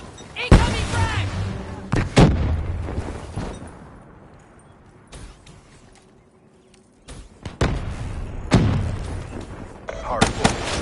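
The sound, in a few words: frag grenade explosion and gunfire in the video game Call of Duty Black Ops 3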